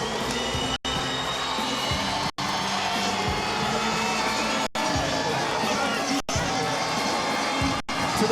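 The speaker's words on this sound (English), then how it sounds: "But the crowd still loves it" Boxing fans in an arena in Biloxi roar and cheer continuously during a light heavyweight bout, a dense wall of crowd noise with brief sharp dropouts.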